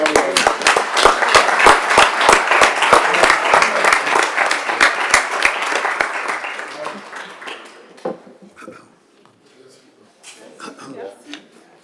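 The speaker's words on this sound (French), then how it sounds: "Merci à tous vos applaudissements." Audience applause at a city council meeting, dense and steady for about six seconds, then thinning to scattered claps that fade out, with brief murmurs of voices near the end.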